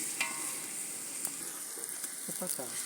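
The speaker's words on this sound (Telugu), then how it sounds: "అల్లం పచ్చివాసన పోయే వరకు నూనెలో వేయించాలి" Ginger paste and spices fry in oil for sambar, a soft, close sizzle with light scraping and stirring clicks scattered through it, fairly quiet, with no talking.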